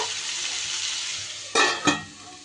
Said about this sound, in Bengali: আরও একটু সময় আমি এটা ভাজা ভাজা করে নেব